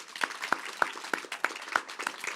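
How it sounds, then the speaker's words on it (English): Applause at the grand opening of an ArchWell Health clinic, a small group clapping at a distance with a soft wash of sound and a few distinct claps standing out in a loose rhythm. "I want to give my team and all the colleagues here at ArchWell Health one more big round of applause."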